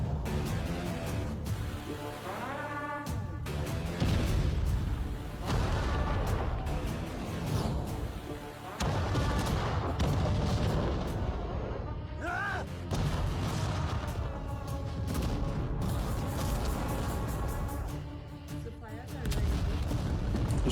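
Bomb explosions and gunfire in an action film, booming blasts and rattling shots filling a dense, loud, continuous barrage with shouts mixed in.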